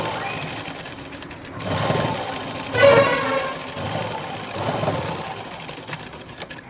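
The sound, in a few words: sewing machine stitching cloth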